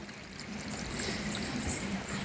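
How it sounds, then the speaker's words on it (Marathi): Water pours steadily over raw mutton being washed for a village-style goat curry, a continuous close splashing trickle with no talk. "ह्याच्यात पाणी टाकून स्वच्छ धुवून घ्यायचे"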